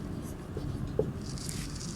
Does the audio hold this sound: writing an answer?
yes